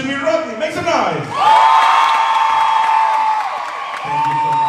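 A cruise-ship crowd on the Icon of the Seas erupts into loud sustained cheering and whooping after a host's shouted prompt, the roar holding steady for a few seconds before the host speaks again.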